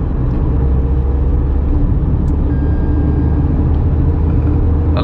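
A Tata Punch Adventure AMT car picking up speed, heard as a steady, loud engine and road rumble from inside the cabin, continuous throughout with no talking.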